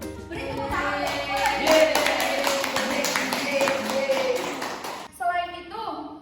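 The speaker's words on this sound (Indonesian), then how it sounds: "Beri tepuk tangan." Classroom clapping breaks out among students, a burst of quick hand claps with voices talking over and around it, fading near the end.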